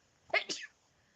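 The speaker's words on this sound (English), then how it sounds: "Oh god, this is making me sneeze." A single close, abrupt sneeze in two quick bursts, a sharp intake followed by the expulsion, in a quiet room with no talking.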